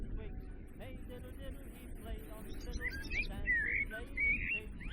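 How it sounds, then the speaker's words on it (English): Short whistled bird chirps and rising trills drift over a murky, rumbling ambience in the horror game Fausts Alptraum, growing clearer and more frequent in the last two seconds. "there was birdsong but no sign of a bird"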